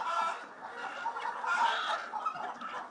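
Free-range chickens raised loose since chickhood, hens laying blue-green eggs, cluck and chatter steadily in a close, busy flock, their overlapping calls continuous and moderately loud with no talking.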